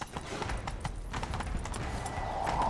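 Rapid hoofbeats of a galloping horse in The Witcher 3: Wild Hunt pound steadily throughout, with a brief whinny-like tone and busy game ambience underneath.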